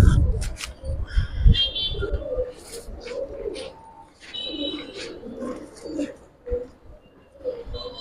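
Pigeons coo repeatedly in a market or loft collection, low throaty rolling calls close by, with some chirps, shuffling and brief talk mixed in.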